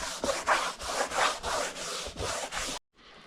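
A cloth wipes wood stain off a sanded cabinet door in repeated rhythmic rubbing strokes, close and fairly loud, stopping abruptly near the end.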